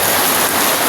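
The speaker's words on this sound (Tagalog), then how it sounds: "Narinig nyo naman yung patak sa yero." Heavy typhoon rain from Typhoon Ramil in the Bicol countryside pours onto a corrugated metal roof, a dense, loud, unbroken hiss of drumming drops with no pauses.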